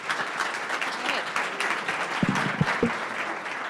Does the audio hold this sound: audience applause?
yes